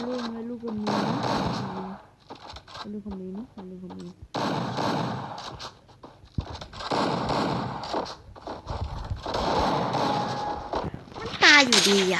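Bursts of gunfire in the video game Free Fire Max, several clusters of sharp shots separated by short gaps, mixed with game sound effects, while someone talks over the action throughout.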